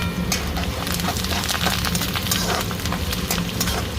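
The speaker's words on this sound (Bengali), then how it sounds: "তেলের উপরে জিরে দিয়ে দিলাম, সঙ্গে দিয়ে দেবো পেঁয়াজ, দিয়ে দেবো কড়ি পাতা" Cumin seeds, onion and curry leaves sizzling in hot oil in a home kitchen, a steady dense crackle with sharp pops and spits throughout, close and continuous with no talking.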